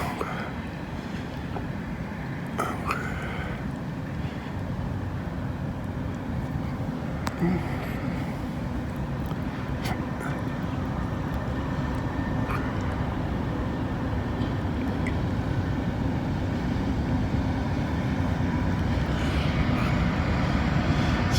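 An intermodal freight train passing through Kenova, heard from trackside as a continuous broad rumble and rolling roar that slowly builds in loudness, with faint distant clanks and no talking.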